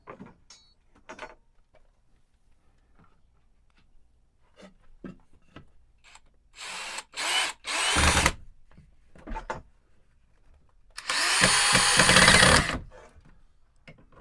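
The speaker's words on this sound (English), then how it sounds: "Drive in the screws." A power drill drives screws into wood framing in two short bursts, the second longer, amid scattered clicks and handling knocks.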